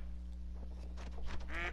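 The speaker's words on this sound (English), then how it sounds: "And I have some ducks landing on me" Ducks quack in a hunting video game, a few loud calls close by near the end over a steady electronic hum and faint background ambience.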